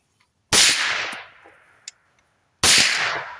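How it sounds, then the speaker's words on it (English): Two suppressed shots from a .308 ARA Saber rifle fitted with a DDC ENTICER L suppressor, fired outdoors into dirt, each a sharp loud crack with a trailing decay, spaced about two seconds apart. "the ENTICER L on a 308 ARA Saber"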